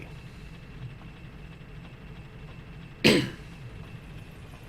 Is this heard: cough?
yes